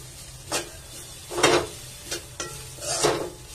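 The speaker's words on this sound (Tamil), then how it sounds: "இப்ப தேங்காய் நம்ம 2 நிமிஷம் வறுத்து எடுத்துட்டோம்" A cup of grated coconut dry-roasts in a pan for a chickpea kuzhambu, with four or five brisk scraping strokes of stirring rising out of a quiet background.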